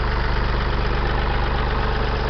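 A Ford 335 industrial tractor diesel engine idles just after a cold start, a loud, steady low rumble with even knocking pulses and no talking.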